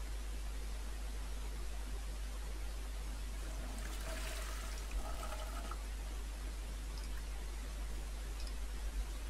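Running water from a tap as a Sims 4 character washes her hands, a faint steady hiss and trickle under constant broad noise, with a slightly brighter splash in the middle.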